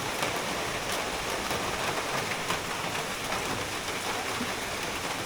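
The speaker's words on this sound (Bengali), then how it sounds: "বৃষ্টির গতি অনেক বেশি তা কিন্তু না," Steady rain pours outdoors in a continuous, even hiss of drops on surfaces, with no break, no talk and no change in intensity.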